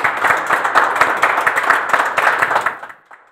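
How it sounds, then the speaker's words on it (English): An audience at a live arts show claps for four guests, a dense, steady, close round of applause lasting about three seconds before quickly fading out. "round of applause for all of them"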